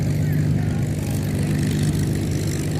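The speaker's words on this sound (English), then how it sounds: "There's planes up in the air all over the place." World War II propeller planes fly at the Wings Over Dallas air show, making a continuous loud engine drone with a deep, steady hum that stays level the whole time.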